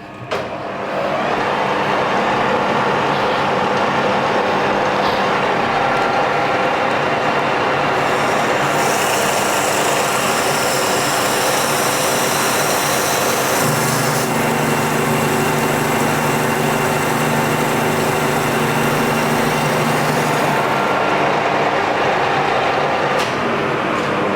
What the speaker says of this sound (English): We'll start up the Colchester lathe and give it a whirl.